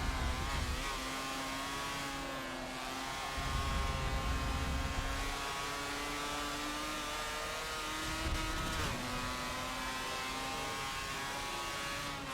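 Mazda RX-7 race car engine in Forza Motorsport 7, heard from a third-person view as a steady, loud, sustained high-pitched drone that holds at near-constant revs with slight pitch wavers.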